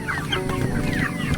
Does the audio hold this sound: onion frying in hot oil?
no